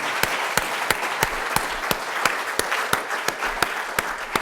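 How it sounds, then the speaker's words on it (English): Audience applause at a Metro Boston civic event on equity, a steady wash of many hands with sharp periodic claps standing out at a regular beat, moderately loud and continuous with no talking. "I want to give another round of applause to everybody who's been part of this day today"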